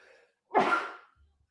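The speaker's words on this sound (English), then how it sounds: "Sneeze coming, sneeze incoming." A single loud human sneeze, close and sudden, in a short breathy burst before quiet.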